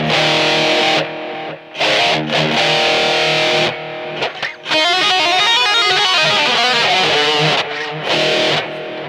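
Distorted electric guitar through a BOSS digital delay recreating an 80s Lexicon PCM-41 sound, effect level at 90, reverb switched off; loud, close chords and ringing single notes with audible repeats, short gaps between phrases.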